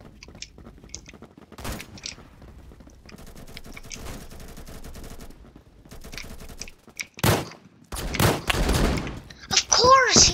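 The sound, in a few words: machine shotgun fire in the video game Roblox Phantom Forces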